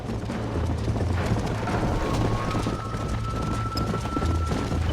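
Rapid rhythmic hooves of a horse galloping in a race in the video game Red Dead Redemption pound continuously in a dense rumble, with a faint steady tone drifting in and a low hum underneath.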